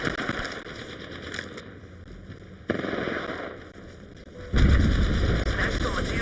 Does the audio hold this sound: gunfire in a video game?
yes